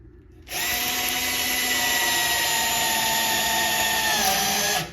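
A Bosch 12V driver whines loudly and evenly as it drives a screw into wood, starting abruptly after a brief quiet moment and cutting off sharply near the end.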